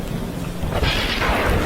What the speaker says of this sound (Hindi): बिजली जोर जोर से कड़कने लगती है